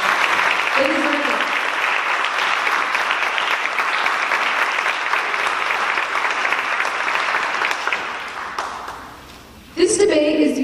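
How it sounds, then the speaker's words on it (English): A student-organized city debate audience gives a big round of sustained applause, dense and steady for about nine seconds before fading out, followed by a brief burst of other sound at the end. "Can I just have a big round of applause for all of you?"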